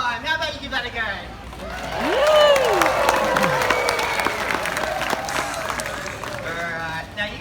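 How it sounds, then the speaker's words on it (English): An audience at a seal show at Sydney SeaLife Aquarium breaks into loud, sustained clapping and cheering, with a broad crowd roar, scattered whoops and a few high whistles rising and falling over several seconds. "You may get the urge to clap and cheer at the same time."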